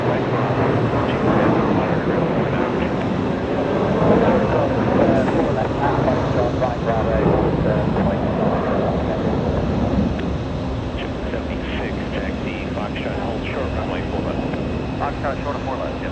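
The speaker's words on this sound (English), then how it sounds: "we're going for JetBlue lifting off." A JetBlue airliner takes off from JFK, its engines making a sustained roar that swells and then eases slightly, with voices talking over it much of the time.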